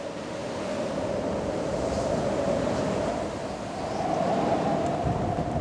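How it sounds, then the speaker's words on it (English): Steady roaring hurricane-strength Atlantic wind over churning sea off Scotland, a continuous broad rush of surf and gusts that swells slightly toward the end. "Hurricane-strength gusts churn up the sea."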